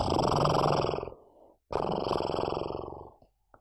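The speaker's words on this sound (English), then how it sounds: "soon she was snoring" A sleeping woman snores, two long, deep, rasping breaths with a short quiet gap between them, close and fairly loud, with no one talking.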